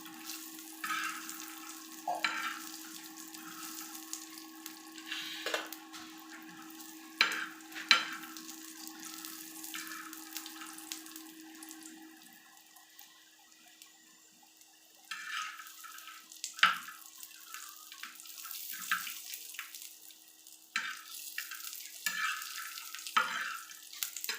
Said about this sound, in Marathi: यात मी अर्धी वाटी शेंगदाणे टाकले आहे यांना पण चांगलं भाजून व तळून घ्यायचं